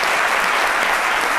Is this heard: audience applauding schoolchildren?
yes